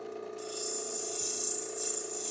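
Oregon sunstone is carved on a coarse 220 grit wheel, giving a steady high, hissing grind that begins softly and then holds loud and close.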